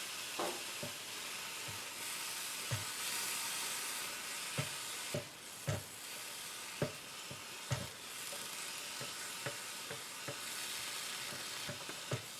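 Mushrooms sizzling in a frying pan for a breakfast omelet sandwich, a steady soft hiss broken by frequent sharp clicks and taps of stirring, fairly faint and close, with no talking.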